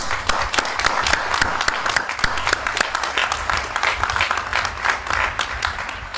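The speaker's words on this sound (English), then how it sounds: "Please give each other an enthusiastic round of applause." Scattered applause from a graduation ceremony audience, individual claps distinct and uneven, rising into a moderate patter of many hands in a large space.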